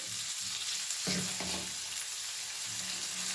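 Peppers, onions and tomatoes frying in a pan, a steady broadband sizzle throughout with a couple of brief louder stirring scrapes near the middle.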